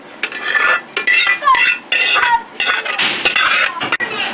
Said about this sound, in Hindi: बाउल लेते हैं हम, कस्टर्ड इसमें ट्रांसफर करते हैं।